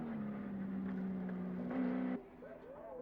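Group A VK Commodore race cars race at Bathurst in 1986, a steady engine drone cut by one louder surge that drops off sharply, with commentary talk running over the cars.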